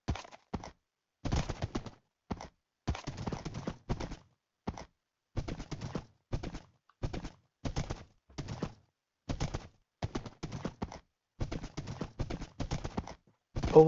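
Horse hooves clip-clop in a video game, sounding as a long run of steady, evenly spaced footfall bursts with brief silent gaps between them. The hoofbeats are clear and fairly close, and no voices are heard.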